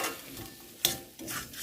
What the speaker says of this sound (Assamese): ঘনাই লৰাই দিছোঁ।